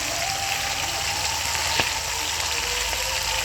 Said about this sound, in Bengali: মাছটাকে উল্টে দিলাম, এক পাশ ভাজা হয়ে গেছে, আর এক পাশ ভেজে মাছটাকে তুলে নেব